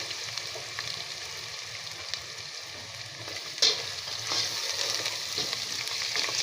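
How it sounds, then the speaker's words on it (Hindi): Garlic ginger paste sizzling in a pan of browned onions, a steady, soft crackling fry near by with a few stirring knocks, no voices. "अभी लहसुन अदरक का पेस्ट डाल दिया।"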